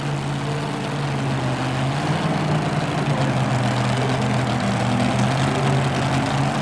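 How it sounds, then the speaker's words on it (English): A two-wheel-drive pulling truck's heavy engine idles and revs loudly inside an arena, a continuous deep rumble with steady low harmonics lasting several seconds, no talk over it. "all that horsepower sitting there revving, waiting to let loose here in the Spectrum"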